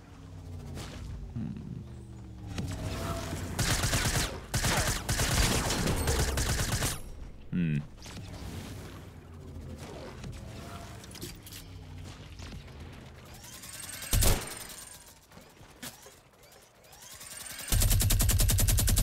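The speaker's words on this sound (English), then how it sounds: "Miniguns blazing." Minigun fire in the battle royale game Fortnite at Dusty Divot, heard as dense, loud bursts of rapid gunfire with brief pauses and a sharp crack near the end, alongside other game sounds.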